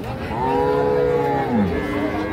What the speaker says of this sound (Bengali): হলিস্টিন ফ্রিজিয়ান জাতের গাভী